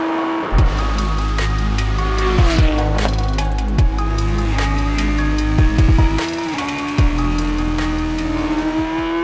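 Radical race car engine at full throttle, screaming loudly and close as it climbs through rising revs, with several sharp drops in pitch at gear changes.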